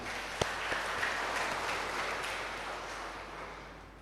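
Applause from a congregation at a church Christmas celebration, a steady wash of many hands clapping at moderate distance that slowly fades toward the end.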